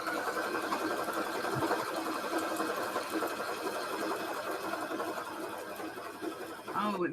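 A sewing machine runs steadily with a fast, even mechanical rattle, fairly faint and continuous throughout.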